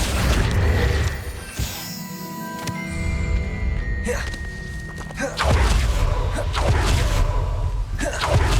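Casting the Confringo fire spell in Hogwarts Legacy sets off a mix of whooshes, thuds and crashing blasts with some clanking, loud and busy across several seconds, and a brief voice breaks in partway through.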